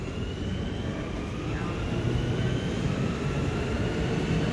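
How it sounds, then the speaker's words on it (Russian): A steady low rumble of a train pulling away from a station in Germany, with broad rolling noise throughout and no clear voices. "Вот, кстати, поезд пошел."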